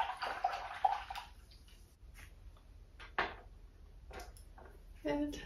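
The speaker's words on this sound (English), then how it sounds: "Wash your brush out." A paint brush rinsed in a water cup during an acrylic painting session, giving soft intermittent swishing and dripping water sounds, close and fairly quiet, with brief clinks and gurgles scattered through.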